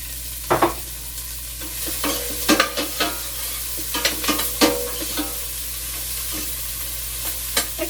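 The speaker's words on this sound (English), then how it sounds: "in with the bacon fat, we're going to put in onion and celery." Onion and celery fry in bacon fat for corn chowder under a steady low sizzle, with sharp clinks and scrapes of a utensil stirring in the pan, close and irregular.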